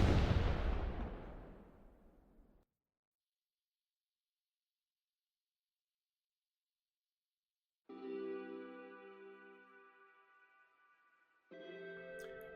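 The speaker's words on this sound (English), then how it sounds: "The sudden explosion, which was caused by the death of the creature, was so strong that it ended up affecting everything." In a video game, a creature's death sets off a single powerful explosion that booms loudly and decays over a couple of seconds, followed by silence and then sustained tonal game sounds.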